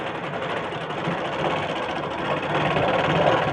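A sewing machine runs continuously, fine stitching along a blouse seam, with a steady whirring hum that stays close and even and swells slightly toward the end.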